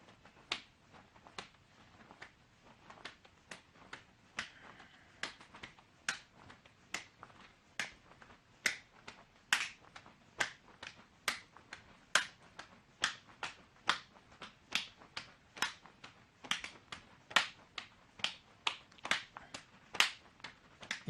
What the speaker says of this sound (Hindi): हम दोनों पैरों को जंप के साथ खोलेंगे और हाथों से ऊपर की तरफ ताली बजाएंगे, जिसको जंपिंग जैक्स बोलते हैं